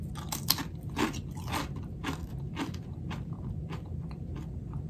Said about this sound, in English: You hear that crunch? You hear it? It's got a great crunch.